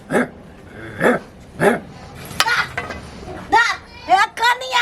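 A dog barks three times in quick succession, close and loud, followed by whimpering yelps and excited chatter from people and children nearby.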